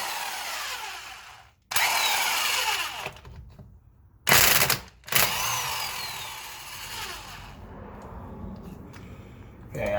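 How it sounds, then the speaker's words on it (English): A Craftsman impact gun removes car lug nuts in loud, close bursts of rattling hammering that rise and cut off, with a quieter mechanical whir between bursts. "what I'm doing is removing the lug nuts with an impact gun made by Craftsman"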